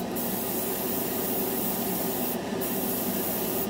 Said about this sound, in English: I didn't have to thin this one as much with the better airbrush.